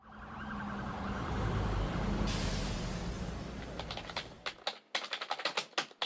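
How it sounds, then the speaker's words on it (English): Rapid, hard keystrokes on a computer keyboard, clattering in uneven bursts after a long stretch of loud broadband noise. "Hearing a lot of angry typing over there."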